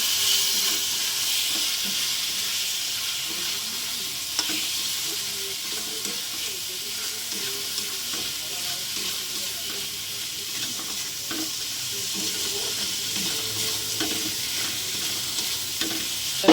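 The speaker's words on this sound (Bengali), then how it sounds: "মশলাটা ভালো করে কষিয়ে নেব।" Spice paste of turmeric, red chilli, coriander and cumin powders sautéing in oil for a Bengali fish curry, a steady close sizzle with scraping stirs and light clinks running throughout, no talking.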